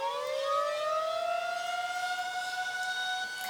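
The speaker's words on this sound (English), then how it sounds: "in comes an air raid siren to introduce the next scene" An air raid siren used as a sound effect in a video edit, a loud sustained wailing tone sliding slowly upward in pitch with strong harmonics, steady and close throughout with no other sounds.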